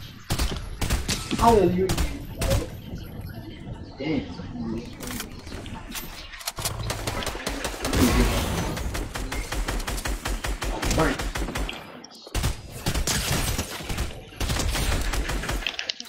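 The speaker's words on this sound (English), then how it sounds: "They're shooting." Call of Duty gunfire in a multiplayer match: rapid automatic bursts and repeated shots fill the scene almost continuously, loud and dense, while players talk over it.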